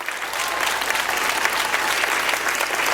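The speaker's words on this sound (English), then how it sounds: "huge round of applause." An audience at a TEDx talk at a school gives sustained, dense applause, an even wash of many hands clapping at close range throughout.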